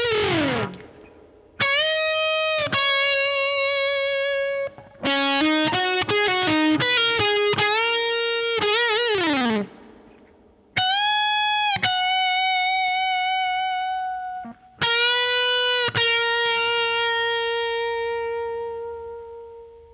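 Electric guitar plays the first solo of a song: sustained, effect-laden notes with distortion and chorus, sliding bends and held pitches in several phrases separated by brief gaps, played alone and fairly loud.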